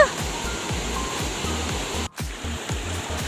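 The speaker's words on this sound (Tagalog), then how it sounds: "Napakaganda ng falls." Steady broadband rush of a clear-water waterfall, loud and continuous with rhythmic low splashing pulses, briefly dropping out for a moment midway; no talk over it.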